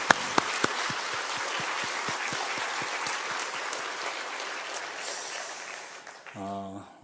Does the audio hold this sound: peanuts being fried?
no